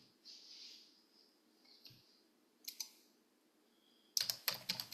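Typing on a computer keyboard during spreadsheet work: a few scattered soft clicks, then a quick cluster of sharp close keystrokes at the end, in an otherwise quiet room.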